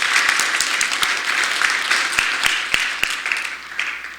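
A church congregation applauding during a Sunday worship service, steady dense clapping with a few sharper individual claps standing out, lasting about four seconds.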